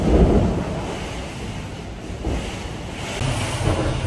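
Strong typhoon wind from Typhoon Uwan blowing around a damaged house, a loud rushing roar that surges and eases in gusts. Heavy wind buffeting on the microphone, with no voices.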